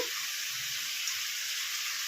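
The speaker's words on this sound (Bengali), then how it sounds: "ওদিকে পনিরটাও ভাজা হচ্ছে।" Paneer frying in a pan gives off a constant, even hiss of sizzling oil, close and unbroken, with no stirring or voices.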